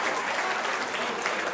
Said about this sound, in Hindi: एक बार मेरे इन भाइयों के लिए जोरदार तालियां हो जाए